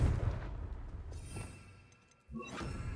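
A Confringo blasting spell cast in Hogwarts Legacy, a booming burst at the start that fades into a lull, followed by a second sharp impact and rumble, moderately loud with no voices.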